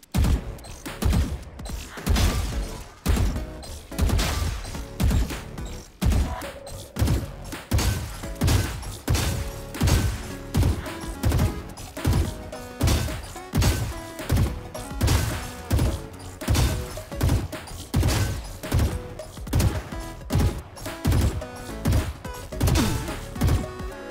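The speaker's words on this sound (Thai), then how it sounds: "มาลองยิงบอทดูแล้วกัน" Repeated gunshots at bots in the shooter Valorant: sharp, loud cracks fired in quick bursts and single taps, with short pauses between volleys, alone and without talk.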